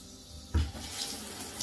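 Water running as hair is rinsed, a sudden gush starting partway through and continuing as a close, splashing flow of steady hiss.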